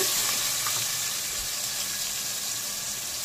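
Tomatoes and onion paste fry in a pan for an Andhra fish curry, giving a loud, steady, close sizzle with faint stirring throughout and no voices.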